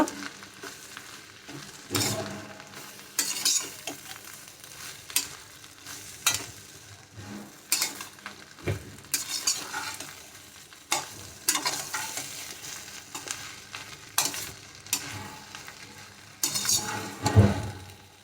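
Mutton kothu parotta is mixed with salna in a hot pan, a continuous close sizzle broken by repeated scraping stirs and occasional metallic knocks of the spatula, with no talking.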